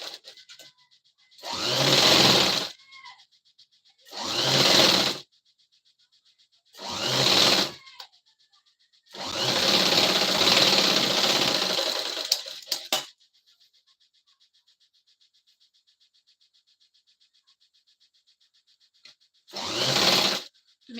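A sewing machine stitches a blouse shoulder seam in short bursts of whirring, five separate runs with one longer stretch in the middle, close and fairly loud, with quiet pauses between runs.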